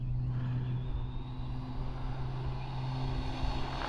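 A Hosim X07 RC car running on a 3S battery gives off a steady, continuous electric motor whine with a low drone underneath, holding a fairly even level throughout.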